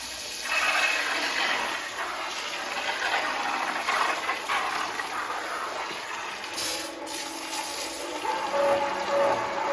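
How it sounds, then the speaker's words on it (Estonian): A Graco UltraMax II paint sprayer pumps clean water from one bucket to another, giving a steady hissing spray with a faint mechanical hum and a few brief shifts in tone, and no talking. "Et siis pumpaga puhast vett ühest ämbrist teise."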